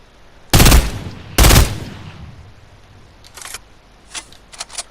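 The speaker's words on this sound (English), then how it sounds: "I think only 3 of those shots hit" Two loud, sharp gunshot bursts ring out about a second apart in a shooter video game, followed by a few fainter, shorter clicks and pops near the end.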